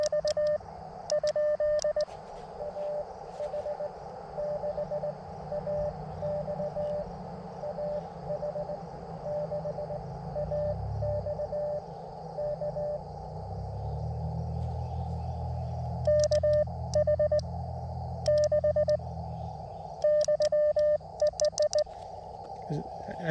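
Faint CW Morse code on an amateur radio during a Parks on the Air activation at Letchworth State Park, sent as bursts of steady on-off tones at the start and again later, with a weak keyed tone and receiver hiss and hum in between.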